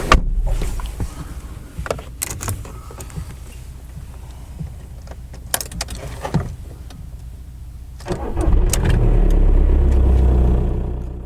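A Skoda Fabia Mk1 with the PD diesel engine, fitted with a repaired earth lead, turns over and fires after a few scattered clicks and clunks, settling into a steady, close idle rumble for the last few seconds.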